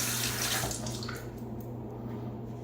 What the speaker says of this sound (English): Rinse that off my finger and see how it rinses pretty quickly.